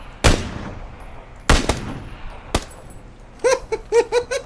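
Gunshots in PUBG: three loud, separate cracks echo at irregular intervals, followed by a quick run of sharper, ringing shots near the end.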